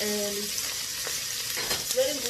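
Red and green bell peppers and onions sizzle in hot oil in a pot, a close, steady crackling hiss that runs throughout.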